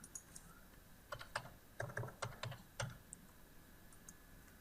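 A computer keyboard is tapped as a student ID number is entered into a search field, giving a short run of quiet, close key clicks in small uneven clusters.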